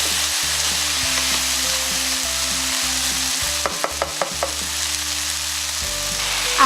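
Oyster sauce and chili sauce being stir-fried in a pan for prawn and squid fried rice: a steady, close sizzle with a short run of sharp spatula clacks midway.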